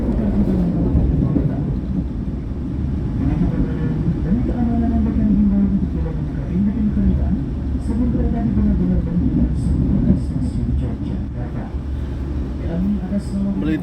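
Aboard an Indonesian new-generation passenger train, a deep, steady rumble of wheels on rails fills the cabin for the whole stretch, with a voice talking over it.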